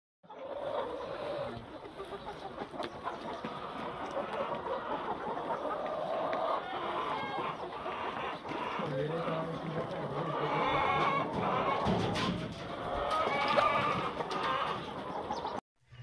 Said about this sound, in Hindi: तो चलते हैं पहले आपको दिखाते हैं मुर्गियाँ